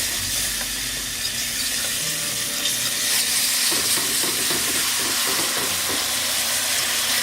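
Turkey roasting-pan drippings hit a hot pan and sizzle loudly and continuously, a dense steady hiss with faint stirring scrapes and no voices.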